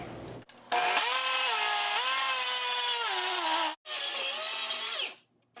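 A food processor pulsing pie crust dough with sugar and ice water: a loud whirring motor runs in two long bursts separated by a brief stop, its pitch dipping and rising as it churns.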